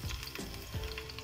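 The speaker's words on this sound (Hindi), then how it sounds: "तेल भी अच्छे से गर्म हो चुका है, और इसमें अब मैं लहसुन डाल दूँ" Garlic fries in a spoonful of hot oil, giving a close, steady crackling sizzle with small popping bursts throughout.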